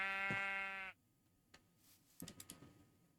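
Sheep in a video game gives one clear, close bleat that stops abruptly, followed by a few faint clicks and soft rustling.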